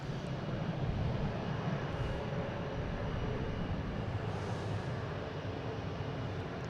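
A JetBlue airliner takes off at Boston Logan airport, bound for Salt Lake City, its engines a steady broadband roar with a heavy low rumble that holds loud and unbroken throughout, with no voices over it.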